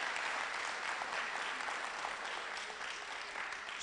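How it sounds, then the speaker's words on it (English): A school audience at a quiz competition applauds steadily, dense sustained clapping filling the space at moderate level with no break. "Let's clap for ourselves."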